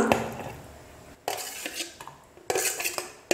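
Sautéed onion and tomato are scraped from a metal pan onto a plate while cooking a thattu vadai set, producing close, loud metallic scrapes and clinks in three separate bursts, with no talking.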